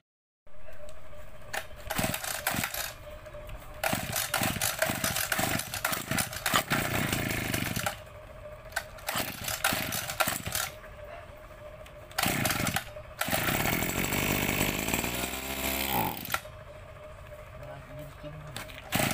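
A power drill bores into metal while a reduction sprocket is made for a lawn mower engine on a scooter, coming in loud, repeated bursts with a longer grinding stretch and short pauses between.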